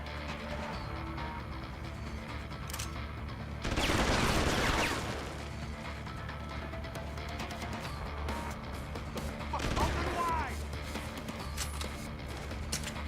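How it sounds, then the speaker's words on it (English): Gunfire from the video game Deus Ex Human Revolution: a dense burst of shots lasting about a second, then a weaker second burst later, both moderately loud over a constant low drone. "Who are you shooting at?"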